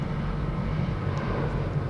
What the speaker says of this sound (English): No, just an aeroplane flying over